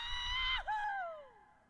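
A single person screams in the desert, a loud, sustained high-pitched cry that drops sharply, then trails off in a falling wail, with faint engine rumble underneath.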